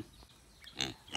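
A pet pig on a farm gives a few short, close grunts and snorts in a quick burst, loud against quiet surroundings.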